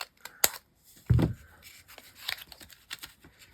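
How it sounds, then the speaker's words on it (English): Scissors cutting a straight line through material, a few quiet snips and rustles close up with soft handling noises in between. "And we'll just cut a straight line."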